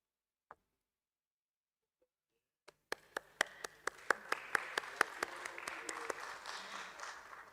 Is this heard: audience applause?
yes